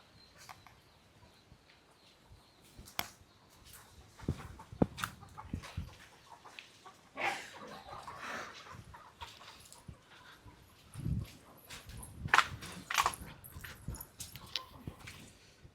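Hens cluck softly at a distance, mixed with a dog's whimpers and scattered rustling, all fairly quiet.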